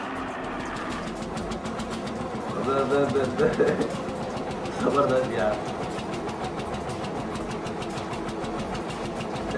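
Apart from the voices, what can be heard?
tractor engine in stunt video, pulling a broken-down tractor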